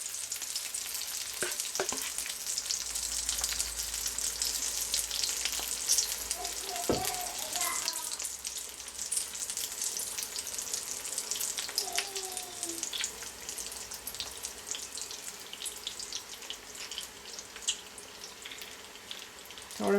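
Hot oil sizzles in a pan while waffles cook, a continuous close crackle and hiss with occasional clinks of a utensil, and a voice speaks briefly beneath it.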